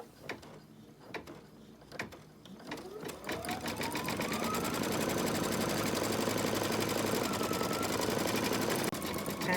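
Embroidery machine stitching a candy cane design on fabric: a few clicks, then the motor spins up into a steady, fast, rhythmic mechanical whir that continues close and loud.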